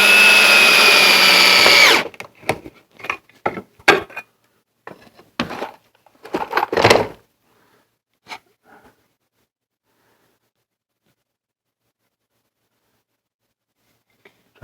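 Power drill driving screws into a hand-forged paper towel rack for a French cleat shelf: a long steady whir for two seconds, then a series of short bursts of drilling and tool knocks, followed by near silence.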